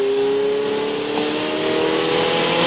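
Ferrari 488 Challenge Evo engine pulling steadily under throttle on a race track, a loud continuous onboard drone with rising harmonic tones and strong broadband wind and road noise.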